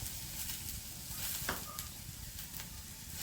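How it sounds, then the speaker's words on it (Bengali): Bitter gourd and potato pieces fry in oil in a pan with a soft, continuous sizzle and crackle, heard close but faint, with a few light stirring scrapes and no talking. "এদিকে দেখো উচ্ছে আলু ভাজা হয়ে গেছে"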